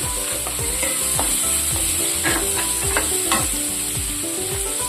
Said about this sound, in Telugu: హైలో పెట్టుకుని వేయించుకోవచ్చు